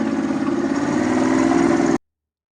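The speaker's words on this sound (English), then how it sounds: "that sounds like the roar of a gas V8, right? Or a petrol V8." Engine of an Alvis Stalwart amphibious military truck running at a steady, throaty drone, loud and even for about two seconds before cutting off abruptly.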